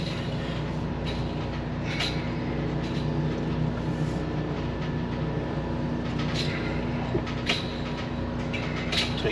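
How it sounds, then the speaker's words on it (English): Steady rattle of a metal window blind inside a moving 2018 Winnebago Minnie Winnie 26A Class C RV, layered over continuous road and engine rumble while driving, with light intermittent clinks throughout. "Forgot to put that blind up, metal blind, to make it a little bit of racket."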